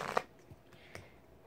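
Tarot cards shuffled by hand, a quick close riffle followed by a couple of soft flicks and taps, quiet and without talk.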